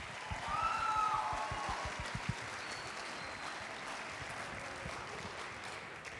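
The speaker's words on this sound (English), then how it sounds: "Can we give them one more round of applause?" Applause from an audience at a Palauan cultural performance event swells early, then settles into a steady distant patter of many hands clapping that slowly thins out.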